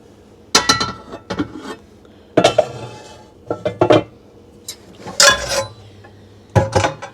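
A cornbread pan and other metal cookware clank and clatter in a kitchen, with several sharp, close knocks and rattles separated by short quiet gaps.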